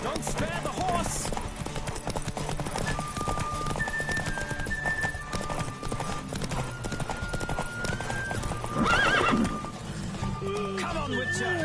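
Galloping hooves drum steadily from a horse called Witcher, with a loud neigh rising near the end over a busy game soundtrack.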